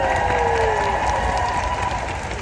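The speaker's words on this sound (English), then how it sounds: "let's give her a round of applause, please." Audience applause fills a conference room at a speaking event, a dense and steady patter of clapping from a room full of people that carries on for a couple of seconds.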